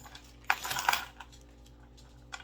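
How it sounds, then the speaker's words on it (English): A bunch of metal keys is picked up and handled, giving two bright, sharp jangling clinks close by and then a few softer rattles, with no talk. "I want to grab some my keys"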